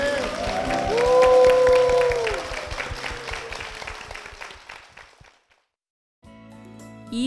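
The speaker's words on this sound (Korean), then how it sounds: "영광의 박수를 드리겠습니다" A church congregation applauds over music and tonal effects. The clapping stays fairly loud for about five seconds before fading into a brief silence.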